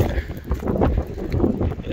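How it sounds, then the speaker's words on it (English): Strong wind at the Blue Lagoon in Iceland buffets the microphone in rough, rumbling gusts that continue for the whole stretch, with no clear voices. "Super windy now."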